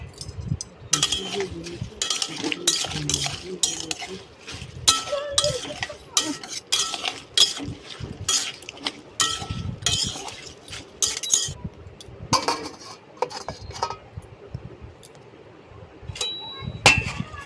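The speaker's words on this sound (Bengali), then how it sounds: "এবারে 1 চামচ হলুদ, 2 চামচ নুন দিয়ে নাড়াচাড়া করে ঢাকনা লাগিয়ে দেবে।" Shrimp stirred in a pan with turmeric and salt before the lid goes on, with repeated clinks and scrapes of a spoon against metal in irregular bursts, some faint voice in between.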